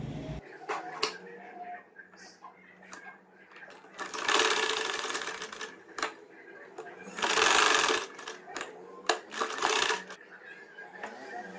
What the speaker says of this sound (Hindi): इस तरह इसको रखकर ये वाले हिस्से पर हमने सिलाई लगा देनी है।